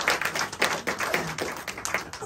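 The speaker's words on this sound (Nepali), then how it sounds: "उहाँलाई पनि हामी सबै ताली बजाएर स्वागत गर्छौँ" A small audience at a ministry gathering claps to welcome guests, giving a steady patter of overlapping hand claps for a couple of seconds with no clear talk over it.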